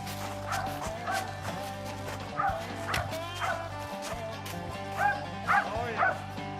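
A hunting dog on a squirrel hunt in Tallahatchie County woods barks and yips repeatedly in uneven bursts, with whimpering notes between them, at moderate distance over a faint outdoor background.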